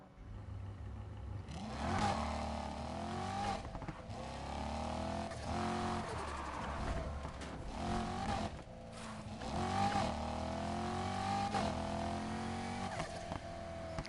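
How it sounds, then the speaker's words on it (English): A car in the racing game Need for Speed Heat, running what sounds like a single-turbo V8, roars as it revs and accelerates through shifts, the engine note rising and dropping repeatedly, loud and sustained. "kind of sounds like I have a single turbo V8 in this right now"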